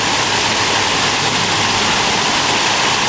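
Raging river water rushing over shallows, a dense, steady roar of loud broadband wash that fills the whole stretch without a break and with no voices.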